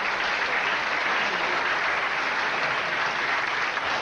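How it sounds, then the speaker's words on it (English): A studio audience at a Letterman taping applauds in a dense, steady wash of clapping that holds evenly at moderate loudness throughout. "Let's hear some applause."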